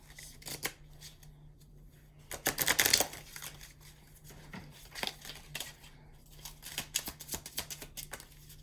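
A deck of cards is shuffled up close: quick riffling bursts and flicks repeat in uneven rhythm, louder in the middle, with no talking.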